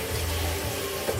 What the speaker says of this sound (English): wash my hands in between.